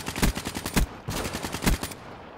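Rapid automatic gunfire in Call of Duty: Black Ops 3, two close, loud bursts of evenly spaced shots separated by a short gap.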